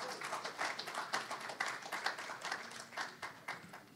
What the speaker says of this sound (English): Please give a warm round of applause, warm welcome to President Frank Donoghue